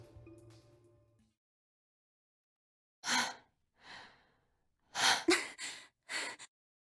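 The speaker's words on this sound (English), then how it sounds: "So much panting." A character in the video game Virtue's Last Reward pants and gasps in a series of short, breathy bursts, several quick ones grouped near the end, close and alone after a faint musical tail fades.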